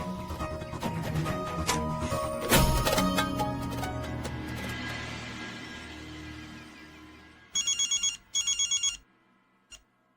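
A telephone rings unanswered: a dense ringtone with music-like tones fades, then gives way to two short bursts of bright electronic ringing and a brief final chirp, with no one picking up.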